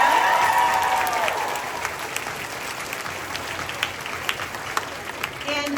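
Audience applause for veterans at a Veterans Day event, dense steady clapping from a crowd filling the room throughout, with a voice over it at the start.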